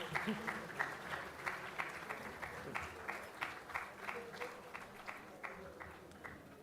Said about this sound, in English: Try to clap for your fellow graduates.